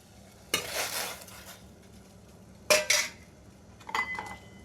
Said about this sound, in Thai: ชุดแรกนะผมจะใส่เครื่องปรุงชุดแรกลงไปก่อน น้ำเดือดแล้วนะ